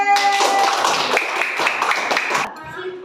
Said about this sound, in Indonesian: Luar biasa. Tepuk tangan untuk Bapak B.